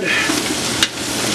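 Onions sauteing in a pan over high heat give a steady, close sizzling hiss with a light stir or scrape partway through.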